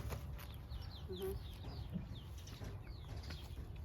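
Chickens cluck and chirp faintly at a distance in a rural village yard, scattered short calls over low background rumble.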